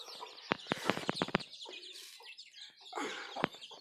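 White hen with her chicks eating rice: sharp pecking clicks in a quick burst and a few soft clucks and chick peeps, close and fairly quiet.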